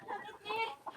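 A chicken clucks a few short times close by, brief and throaty against a quiet background.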